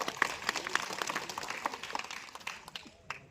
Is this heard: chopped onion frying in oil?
no